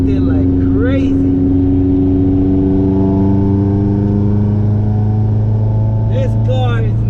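Racing car with a B20B or B16A2 engine, a loud steady drone with sustained harmonic engine tones rising and falling as gears are shifted, with excited talk over it.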